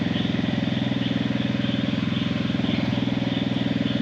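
A motor-driven water pump runs steadily nearby for irrigation, a rapid, even mechanical chugging with a constant low drone and no letup.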